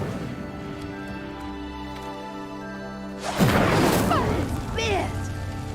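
Incendio fire spell igniting a pyre in Hogwarts Legacy, a sudden whooshing burst of flame over a sustained musical drone, followed by crackling fire and a second flare-up.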